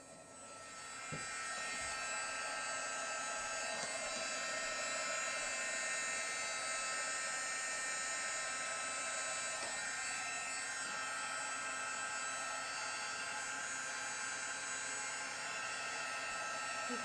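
A heat embossing tool blows steadily over a Christmas card, a continuous whirring hum with airy hiss that starts after a brief pause and holds at an even level throughout, close and alone.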